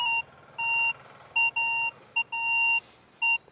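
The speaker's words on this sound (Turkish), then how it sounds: "Kalıntı modunda e, bulduğu değerli metallerde ses biraz daha uzun oluyor" A metal detector in relic mode, out in a field hunting for treasure, gives a series of clear electronic beeps. Some tones are short and some are noticeably longer, sounding alone and steady.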